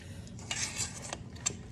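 Sticky date charoses is mixed in a bowl with a spoon, making soft irregular scrapes and a few sharp clicks close by, with a faint background hum and no voices.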